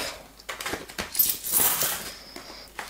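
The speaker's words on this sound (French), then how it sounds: "je vais ranger les petites pièces dans l'enveloppe zip" Small coins tipped into a zip envelope for a weekly cash budget, a close run of metallic clinks and jingles with a rustle of plastic, loudest in the middle, no one talking.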